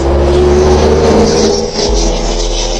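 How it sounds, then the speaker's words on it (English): Road traffic rolls past close by, a loud steady rumble and whoosh of cars that swells and fades, with no voices. "Wow, there's a lot of traffic."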